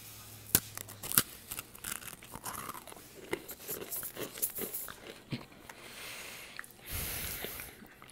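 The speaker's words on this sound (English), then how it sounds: "I have never tasted a biscuit with this certain amount of crunchiness." A crunchy biscuit being bitten and chewed at home, with sharp close crunches at the start followed by a run of softer chewing crackles and a breathy snort.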